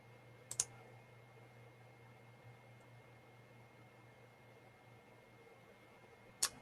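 Two quick mouse clicks sound during a software tutorial, one near the start and one near the end, quiet over a steady electrical hum and hiss from the room.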